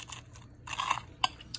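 A bite into a panko-coated crab cake gives a few sharp crisp crunches, close and separated by quiet pauses, with no talking.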